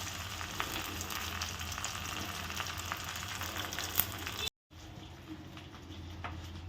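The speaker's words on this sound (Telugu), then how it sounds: "నేనైతే ఇలాగే వేయించుకుంటున్నాను." Fish fried whole in hot oil, wrapped in leaves, gives a steady broadband sizzle near and fairly loud, broken by a brief silent gap before the frying resumes slightly quieter.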